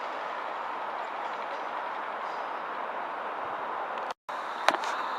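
A London train, a class 165 unit from Greenford, rumbles steadily at a station platform, a broad continuous roar with a brief dropout and a sharp clank near the end; no talking.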